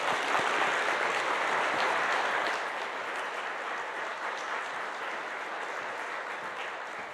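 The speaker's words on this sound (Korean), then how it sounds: "나오실 때 박수로 모시겠습니다." A church congregation applauds to welcome the pastor to the pulpit, a soft, distant patter of many hands that starts fuller and slowly thins and fades.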